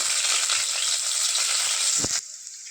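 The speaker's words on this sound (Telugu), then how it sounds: "ముందుగా కుక్కర్లో 2 స్పూన్ల ఆయిల్ వేసుకొని ఆయిల్ వేడయ్యాక ఉల్లిపాయ ముక్కలు వేసుకోవాలి" Onion pieces sizzle and fry in two spoons of hot oil inside a pressure cooker, a steady loud crackle with a brief stir or clink before the frying quietens.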